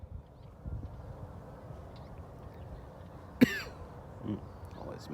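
A man on a cattle ranch during calving season gives a single sharp cough against a quiet outdoor background, followed by faint rustling and low noises.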